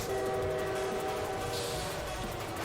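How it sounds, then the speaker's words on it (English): A train rushes past in the management sim Lobotomy Corporation, a loud continuous roar with a steady horn-like tone sustained throughout, dense and close with no talk over it. "Oh no, the train."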